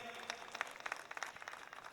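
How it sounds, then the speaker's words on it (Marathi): A crowd at a village wrestling bout applauds a wrestler: a patter of many hands clapping at moderate distance, fairly quiet and uneven, lasting the whole moment. "समाधान घोडके करा टाळ्या या पैलवानसाठी"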